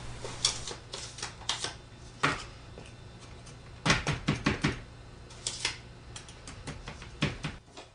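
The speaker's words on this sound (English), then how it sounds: "this is just a 1/2 inch bolt with the threads cut off, used to pack the sand" Core sand is packed into a foundry match-plate mould with a half-inch bolt whose threads are cut off, giving a series of sharp, irregular taps and thumps, close and fairly loud over a faint steady hum.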